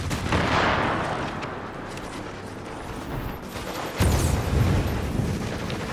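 Roaring, crackling burst of an incendiary attack setting enemies ablaze in the shooter The Division, a loud continuous blaze with a sharper boom near the middle, no talk over it.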